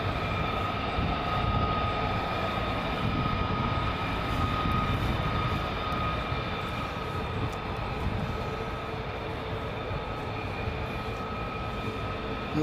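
Four F-35 fighter jets fly in to land at RAF Lakenheath at night. Their engines make a continuous, distant, rumbling roar that holds steady for the whole stretch, with no talking.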